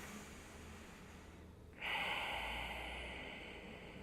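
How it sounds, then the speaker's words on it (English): A single sharp inhale during a seated yoga breathing exercise, quiet at first and then a sudden close, airy rush of breath that holds and slowly fades. "Breathe into the hands."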